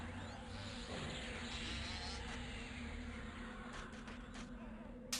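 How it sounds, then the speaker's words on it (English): Steady insect-like buzzing of bees in the game Project Quarm, a continuous faint drone that holds at an even level under a low background hum, with a brief click at the end. "There's our first chubby bee."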